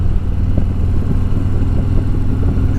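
A 2020 Harley motorcycle with a slip-on exhaust rides along at speed in third gear around 2,500 RPM, its loud, steady low engine drone running continuously with road and wind rumble.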